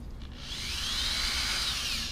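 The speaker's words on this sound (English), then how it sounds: "pick a spot anywhere in the middle here and just drill it through real quick." A power drill bores a hole through a homemade ice fishing tip-up, a steady high whining grind that holds close and loud for about two seconds with no talk.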